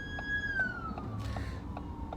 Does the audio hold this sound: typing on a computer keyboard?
no